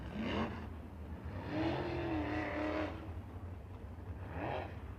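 A USAC sprint car engine at a Lincoln Park race, a continuous high-pitched roar swelling and fading as the car passes, with another engine sweep rising near the end, no talk.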